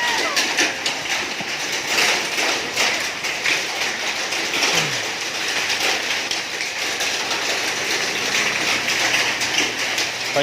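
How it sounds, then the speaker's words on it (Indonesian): Small hailstones falling in a hailstorm in Godean, Indonesia, a dense, steady patter of many tiny impacts rattling on surfaces, continuous and close throughout with no pause. "Ini hujan es batu."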